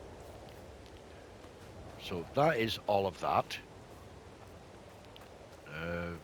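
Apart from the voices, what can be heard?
rain falling in a farming video game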